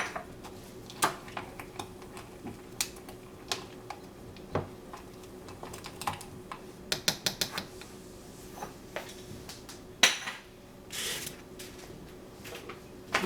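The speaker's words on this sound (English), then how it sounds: "And I'm going to stir again." Egg mixture with onions for egg bites being stirred in a bowl, with irregular light clinks and taps of a utensil against the dish, fairly quiet and close.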